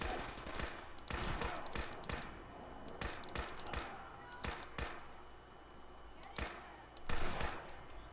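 Gunfire in Fallout 4 as shots hit sandbags, giving rapid bursts of sharp cracks in quick clusters with brief pauses, loud and close, while someone talks over parts of it.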